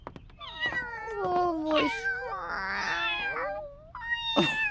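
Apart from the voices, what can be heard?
cats meowing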